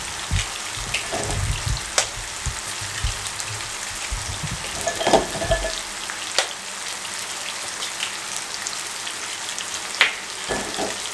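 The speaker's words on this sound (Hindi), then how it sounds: "इनकी साइडें चेंज करते रहे, इनको हल्का हल्का फ्राई करना है" Potatoes fry gently in a pan with a soft crackling sizzle, plus occasional clicks and knocks as the pieces are turned; the sound is moderate and steady, with no talking.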